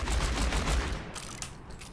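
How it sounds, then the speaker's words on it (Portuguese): McCree's revolver fanned in a rapid burst in Overwatch, a quick cluster of loud cracking shots in the first second, then fading into a lighter mechanical tail. "E se você apertar o botão direito, ele descarrega a pistola no brother."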